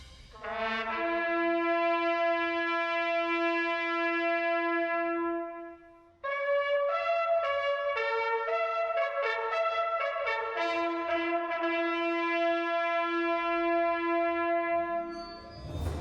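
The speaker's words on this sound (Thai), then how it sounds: "ที่นี่มีวิธีหนึ่งเรียกว่าการเป่าแตรที่ไม่เคยหยุดเป่ามาตลอด100 ปี" Long sustained brass bugle notes of the Last Post at the daily memorial ceremony in Ypres, Belgium, played loud and clear as one held tone, then a brief break and a sequence of stepped notes, with no talking.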